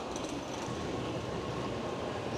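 A Japanese Shinkansen bullet train pulls out of a station heading toward Nagoya, giving a steady, dense rumble of rolling rail noise and airflow that holds constant throughout, heard from inside the car with no talking.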